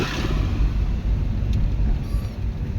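A car engine accelerates while driving, a low rumbling drone up close that rises with throttle and carries steadily throughout, with no speech over it.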